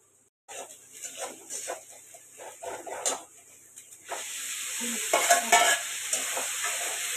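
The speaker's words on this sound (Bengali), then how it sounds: "আগে মশলাটা কষে নিই পেঁয়াজটা ভাজা ভাজা হয়ে যাক" Spices and onion stir-fried in a pan, starting with scattered scraping stirs over a light sizzle, then a louder, steadier hissing fry with clattering spatula strokes near the end.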